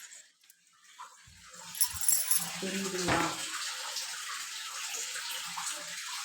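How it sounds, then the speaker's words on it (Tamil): Water runs steadily into a household washing machine as it fills, a rising rushing flow that keeps on to the end, with a person speaking briefly over it. "வாஷிங் மிஷினில் தண்ணி போயிட்டு இருக்குது."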